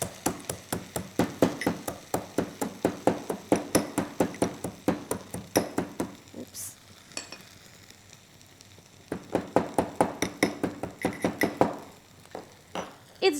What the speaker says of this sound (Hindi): इसका बहुत पाउडर नहीं बना देना, इसे थोड़ा सा ही पीस के हम इसमें डाल देंगे।